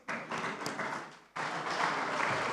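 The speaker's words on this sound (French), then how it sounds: "Si vous pouvez vous lever, s'il vous plaît, qu'on vous applaudisse." An audience applauds the British ambassador, a woman guest, at a television channel launch. The clapping is steady and moderately loud, breaks off briefly for a moment, then returns fuller and denser.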